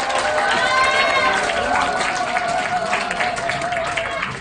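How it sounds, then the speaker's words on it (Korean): A school chapel audience greets an invited lawyer with applause mixed with shouts and cheers, voices calling out over dense clapping that stays loud throughout, with some chatter in the crowd. "큰 박수로 최고의 환호 함성으로 환영하도록 하겠습니다"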